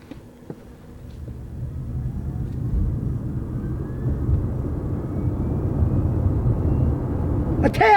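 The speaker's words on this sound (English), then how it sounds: "And still at that speed, the only thing you hear are the tires." A new Hyundai electric car accelerates with traction control off, a low broadband rumble of tire and road noise building steadily from inside the cabin, with no engine sound.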